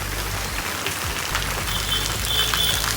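Heavy rain falls in a dense, loud, unbroken hiss of drops striking surfaces close by, with a low rumble underneath and no voices.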